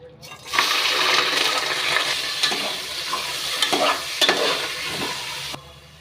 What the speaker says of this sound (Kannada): ಮಟನ್ ಹಾಕ್ಕೊತಾ ಇದ್ದೀನಿ.